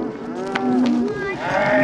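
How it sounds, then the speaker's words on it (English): Cattle steers moo in a short, close bellow of about two seconds, with a faint rustle of activity around them. "Thanks for picking up them 2 steers, Charlie."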